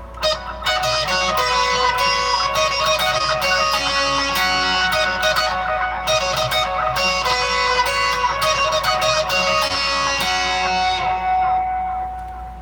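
An electric guitar plays the intro lick to a worship song on a Stratocaster-style instrument, a clear, steady melodic line of picked notes ringing out alone for about twelve seconds.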